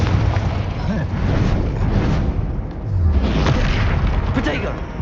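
A Confringo explosion spell goes off in the Hogwarts Legacy video game, a dense, continuous booming roar that stays loud throughout with rumbling bursts layered over one another.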